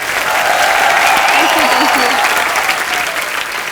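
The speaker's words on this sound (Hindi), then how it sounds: "ऐश्वर्या के लिए जोरदार तालियां।" Loud, dense studio audience applause on a Hindi TV comedy show welcomes a guest, a continuous roar of clapping throughout, with a voice briefly speaking over it partway through.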